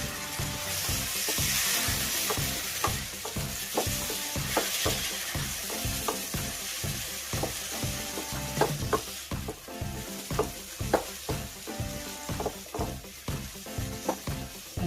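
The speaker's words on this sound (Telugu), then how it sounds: "ఉల్లిపాయ ముక్కలు ఎర్రగా వేయించాక ఇప్పుడు టమాటో ముక్కలు యాడ్ చేసుకుందామండి" Tomato pieces frying with browned onion slices in a pan, a continuous close sizzle under a rapid, regular run of spatula strokes scraping and tapping the pan, no talking.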